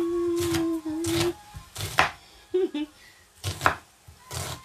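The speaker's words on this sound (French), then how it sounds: "Et là, je coupe mes oignons." Onions are chopped with a knife on a cutting board for a Caribbean-style Spanish omelette, making sharp, close thuds spaced unevenly, with a brief faint tone in between.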